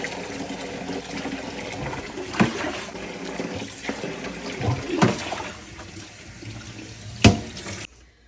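Tap water runs steadily into a sink, splashing and gurgling as duck meat is rinsed under the stream, with a few louder knocks and splashes.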